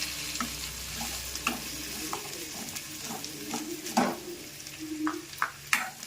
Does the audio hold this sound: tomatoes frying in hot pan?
yes